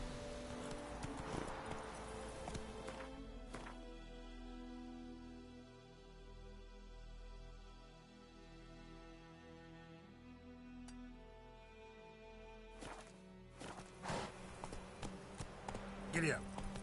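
Rhythmic hoof clip-clop of a horse in a PS4 video game, steady trotting beats with game music and ambience, ending in a louder burst of activity.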